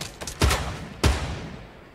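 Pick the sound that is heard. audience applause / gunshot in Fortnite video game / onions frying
gunshot in Fortnite video game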